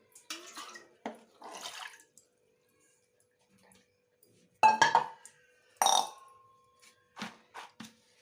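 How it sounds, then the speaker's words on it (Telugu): Chickpeas are washed in water with intermittent splashing, sloshing and rattling bursts at close range, separated by quiet pauses. "సో టూ టైమ్స్ వాష్ చేసుకుంటే నీట్గా గత్తరి కట్ట ఏమైనా ఉంటే మనకి పోతుందండి"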